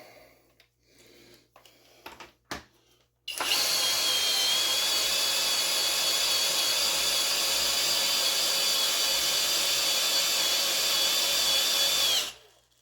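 A few clicks and knocks, then a power drill whirs loudly and steadily for about nine seconds before cutting off abruptly.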